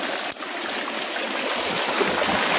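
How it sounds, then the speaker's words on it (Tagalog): A small river flows steadily with broadband rushing and trickling water, a constant close wash that stays even throughout with no voices. "medyo maliit lang naman po yung ilog dito po"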